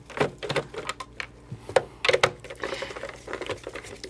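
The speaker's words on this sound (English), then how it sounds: "we'll start by removing the 4 screws to open up the console" Screws being backed out of a Super Nintendo Jr. console shell on a workbench, a series of close, sharp little clicks and scrapes in irregular bursts with short pauses between them.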